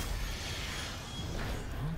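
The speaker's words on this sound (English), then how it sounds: "This door is finally unlocked." Mechanical creaking and grinding of a heavy sci-fi door unlocking and sliding open in the video game Dead Space, a steady low rumble with a rising whine near the end, mid-loud with no voices.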